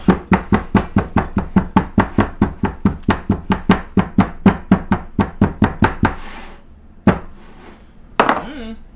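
Thick pizza dough for an air fryer pizza is slapped and pounded by hand, about twenty-five quick, even thuds over six seconds, close and loud, then two isolated knocks after a pause, a short burst of voice mixed in.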